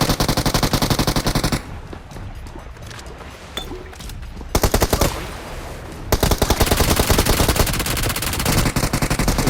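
Rapid automatic gunfire from PUBG Mobile, a mobile battle royale game, rattles in loud bursts, pauses for a quieter stretch in the middle, then returns as sustained close firing.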